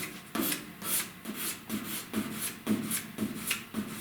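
Hand block sanding on a truck cab corner body panel with 320 grit sandpaper, in steady back-and-forth rasping strokes, roughly two per second, close up and alone.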